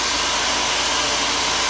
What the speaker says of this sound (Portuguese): Vai dar um secador no máximo aqui, ó.